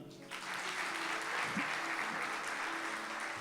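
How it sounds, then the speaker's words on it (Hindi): A church congregation claps together in steady, dense applause that swells quickly and holds at an even level. "सब तालियां बजा दें।"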